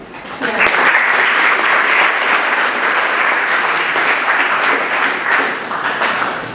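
An audience at a public talk breaks into loud, sustained applause that swells quickly after a brief moment and keeps up as a dense, steady clatter of many hands until it eases slightly at the end.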